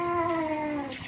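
A cat gives one drawn-out meow with a slowly falling pitch, close and clear for about a second, with no talking over it.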